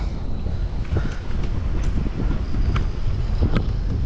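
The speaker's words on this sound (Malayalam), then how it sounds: "നല്ല കാറ്റ് മഴയും ചാറുന്നുണ്ട് കേട്ടോ" Strong wind buffets steadily with a constant rushing roar, a few faint thumps scattered through it, with light rain falling, in Coimbatore.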